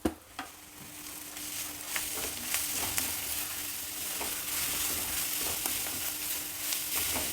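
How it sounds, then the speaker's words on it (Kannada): Onion and ground masala with salt frying in a pan for a gojju, a steady close sizzle with scattered scraping stir strokes of a spoon, no voices. "ಸ್ವಲ್ಪ ಚೆನ್ನಾಗಿ ಒಗ್ಗರಣೆ ಎಲ್ಲ ಹೊಂದ್ಕೊಳ್ಳೋ ಹಾಗೆ ಹುರಿಬೇಕು."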